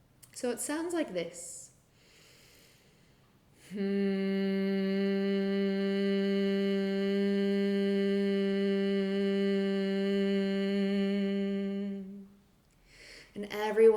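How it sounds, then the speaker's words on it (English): A person hums the Bhramari breath with a closed mouth, exhaling through the nose in one steady, even tone lasting about eight seconds, with brief speech before it and a short breath after. "the Brahmari breath is an inhalation through the nose and a closed mouth hum out the nose"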